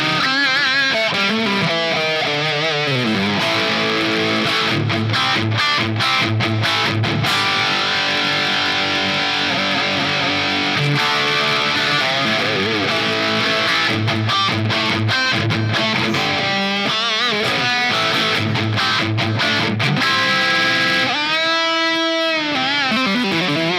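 A distorted electric guitar played through an effects unit's high-gain setting, a loud, dense and buzzy tone with sustained chords and runs throughout, no talking over it.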